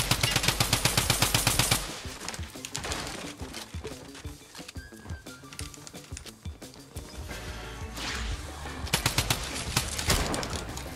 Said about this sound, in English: he's shooting me through every wall!